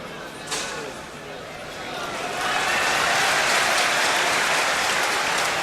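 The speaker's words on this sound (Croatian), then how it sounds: "Evo i pljeska za uspješan," Stadium crowd applauding at a 1990 Croatia–USA friendly football match, starting as scattered clapping and swelling after a couple of seconds into loud, sustained applause from a large crowd.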